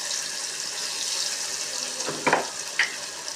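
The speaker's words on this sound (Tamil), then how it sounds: "இதை வந்து இந்த எண்ணெயில் போட்டுடணும்" Ground chilli and garlic paste frying in hot oil, giving a steady soft sizzle throughout, with a couple of brief louder bursts near the end.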